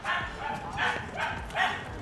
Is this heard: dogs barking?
yes